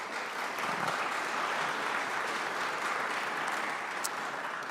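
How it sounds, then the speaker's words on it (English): An audience at a joint Senate and House hearing gives a round of applause, steady dense clapping from a fairly distant crowd filling the whole stretch without talk. "That does deserve a round of applause."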